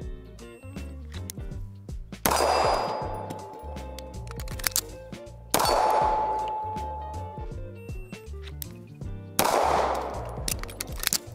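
Sharp, loud pistol shots from a CZ Shadow 2 Compact OR at a shooting range ring out in rapid strings, with three bursts of quick successive cracks separated by quieter pauses filled with clicks and handling noise.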